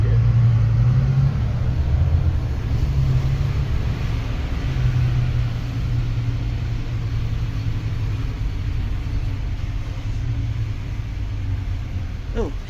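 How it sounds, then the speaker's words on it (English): A rail replacement bus standing in for a Manchester tram rolls past on the street, its engine a steady low rumble that stays loud and close throughout. "here comes another rail replacement bus, or should I say tram replacement bus."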